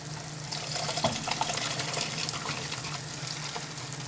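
Water left over from washing spinach pours steadily in a continuous, close splashing stream, with no talking over it.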